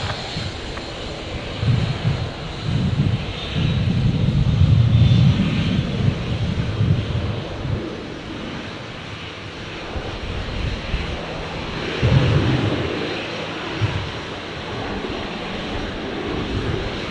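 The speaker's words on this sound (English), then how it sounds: "Virgin 951 on screen here. The 737-700s returning from Sydney." A Virgin Boeing 737-700 jet arriving from Sydney rumbles and roars at moderate distance, swelling loudest about midway and then easing off, with wind buffeting the microphone.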